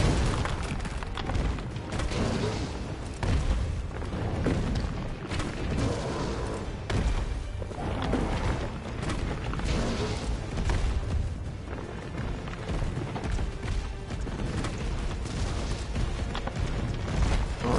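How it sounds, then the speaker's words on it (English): Grenade launcher blasts in the video game Resident Evil 3, a run of heavy booming explosions and thuds over a dense, chaotic game soundtrack, with loud impacts recurring irregularly for most of the stretch. "Well, that's it for the grenade launcher."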